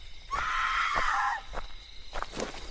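A woman's single drawn-out, high scream lasts about a second, followed by a few soft knocks and shuffling.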